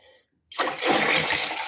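Warm water poured from a mug into glass jars of marinated eggplant, a steady close gush after a brief quiet start, with no talking.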